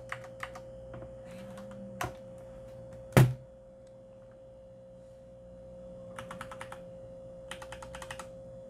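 Keys on a mechanical keyboard with replaced keycaps are typed in sparse, quiet clicks and short bursts, with one sharper thunk, over a steady low hum.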